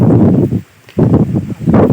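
Strong wind blows through tree leaves in a village, loud rustling gusts surging close to the microphone with a brief lull in the middle before rising again.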